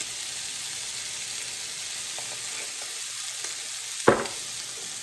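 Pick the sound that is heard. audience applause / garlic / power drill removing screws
garlic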